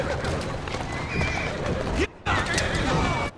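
A horse pulling a buggy in Assassin's Creed Syndicate whinnies loudly and close amid clip-clopping hooves and game ambience, with two brief dropouts in the sound.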